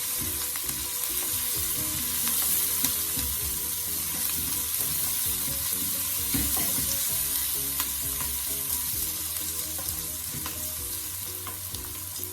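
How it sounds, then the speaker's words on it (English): Sweet peppers with thyme and seasonings fry in a pan for curry salt fish, a steady broadband sizzle with scraping stir strokes throughout, close and fairly loud, no voices. "Okay, I'm just going to give that a stir."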